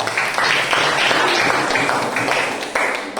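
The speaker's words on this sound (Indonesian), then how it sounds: "Kita berikan tepuk tangan dulu." A classroom of students claps after a group presentation, a dense, loud round of applause that holds steady for about three seconds.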